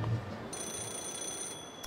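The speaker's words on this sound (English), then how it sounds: "Is that a phone ringing? Looks like it's that payphone." A payphone rings in the video game Yakuza 0, giving a steady electronic ringing tone that keeps going for most of the moment, alone over a low background hum.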